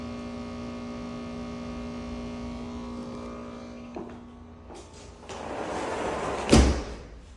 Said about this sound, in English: And the sliding door is vinyl